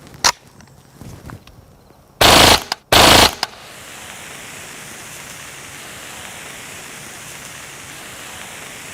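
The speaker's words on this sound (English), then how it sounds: "it turned out the 45 ACP wasn't quite up to the job of piercing through that stainless steel keg" A Kriss Vector in .45 ACP fires at a stainless steel beer keg downrange: two loud, short full-auto bursts with a few isolated shots before them, followed by steady outdoor noise.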